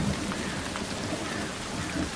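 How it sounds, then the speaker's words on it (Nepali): Monsoon rain falls steadily in Nepal, a dense, close, unbroken patter with a low rumble beneath and no voices. "मलाई वर्षाको आवाज असाध्यै मनपर्छ"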